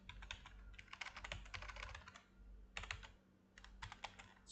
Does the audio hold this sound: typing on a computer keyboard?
yes